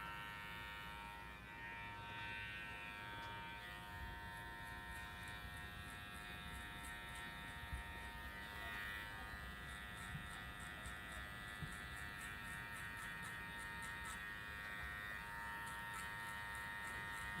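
An electric hair clipper fitted with a number 1 guard buzzes steadily and close up as it cuts a boy's hair, with faint rhythmic rasping as the blade rocks through the hair.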